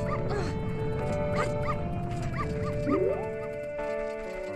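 Dogs at the doggy racetrack in the video game Majora's Mask 3D bark and yip repeatedly in short sharp bursts with whimpering, over game music and sound effects.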